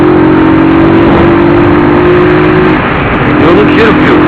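Motorcycle engine with its air filter still fitted, revving steadily and loud up close, a sustained growl holding a constant pitch and shifting slightly near the end.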